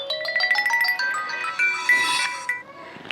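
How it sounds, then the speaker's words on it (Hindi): A mobile phone ringtone plays at a Haryanvi family home, a bright repeating electronic melody of short tonal notes that rings steadily for a few seconds, fairly close and clear with no talking over it. "ओह माँ के तो फोन भी बहुत बाजे भाई"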